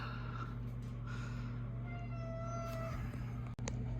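A pet cat meows a few times in a kitchen during pancake baking, short rising cries over a steady low appliance hum, fairly close.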